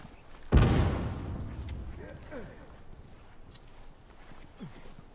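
A grenade explodes in The Last of Us Remastered multiplayer: a single sharp, loud blast near the start with a rumbling decay that fades over a second or two, followed by faint shouting voices in the background.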